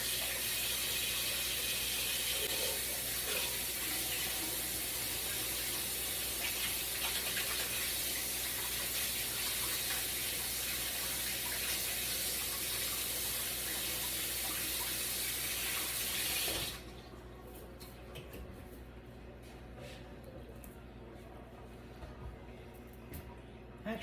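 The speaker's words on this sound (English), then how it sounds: "let me wash my hands" Hands being washed under a running kitchen tap while making Italian Easter bread, a steady loud rush of water that stops abruptly near the end, leaving quieter room sound.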